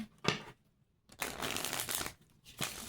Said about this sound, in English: 2 more decks to shuffle for